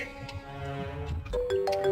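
A phone rings with an incoming call, a tonal ringtone melody sounding near and steady under background music in a Pakistani drama scene.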